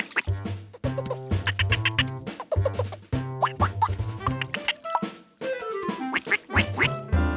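Cartoon ducks in a Curious George episode quack in quick repeated bursts with a bouncy rhythm, bright and close, woven through a playful musical score with no talking.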